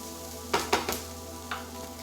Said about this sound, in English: So we just want to get a little bit of color on the onions.